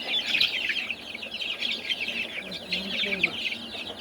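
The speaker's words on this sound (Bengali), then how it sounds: "আমাদের ফাউমি মুরগি" Fayoumi chickens from an incubator batch cluck and peep in a dense, continuous chatter, close and fairly loud throughout with no pauses and no one talking.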